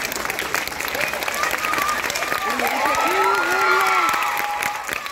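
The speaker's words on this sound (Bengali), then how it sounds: "ঋতিকার জন্য জোরে হাততালি হয়ে যাক ঋতিকার জন্য" A crowd at a prize distribution claps loudly and continuously for a girl named Ritika, with cheering voices and children's shouts rising over the dense applause.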